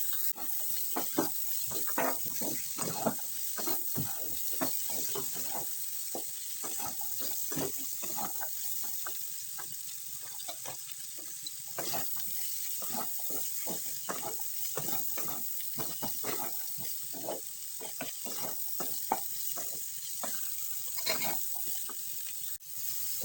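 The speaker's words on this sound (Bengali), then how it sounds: "দিয়ে আরও কিছু সময় নেড়ে ছেড়ে ভেজে নেব।" Banana flower and pea curry fries and gets stirred in a pan, with a continuous sizzle crossed by frequent quick scraping and clinking strokes of a spatula, close and steady throughout, with no voices.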